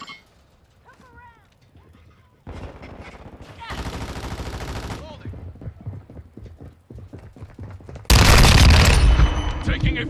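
Call of Duty gunfire erupts in loud bursts amid game sound effects, with rapid automatic volleys near the middle and a heavy blast toward the end, interspersed with quieter movement noises.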